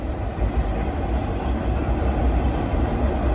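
A Boston MBTA Red Line subway train rumbles past outdoors near Harvard Square, a loud, steady low roar of wheels and cars on the rails, continuous and close throughout.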